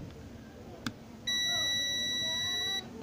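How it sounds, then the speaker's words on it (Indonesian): A continuity tester buzzer on a CRT TV wire gives one steady, loud electronic beep of about a second and a half, with a tonal stack of harmonics. A faint click comes just before it and soft room noise sits underneath. "Buzzer test muna tayo."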